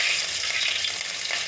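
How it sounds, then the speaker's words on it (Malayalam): Mustard seeds spluttering in hot coconut oil, a steady close hiss of frying with faint crackles throughout, no voices. "കടുകിട്ട് കൊടുക്കാം."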